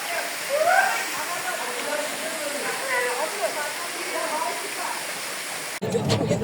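A waterfall on a seaside excursion, heard as a continuous broadband rush of falling water with a brief voice near the start, ending in a short abrupt handling noise.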